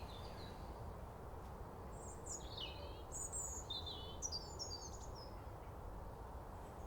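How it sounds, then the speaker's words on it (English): Male robins singing and calling in January at Cowley Marsh, thin high warbling phrases repeating from a short distance above a soft continuous background hum, no voices. "We found where the robins are and the birds. Got one singing right above us"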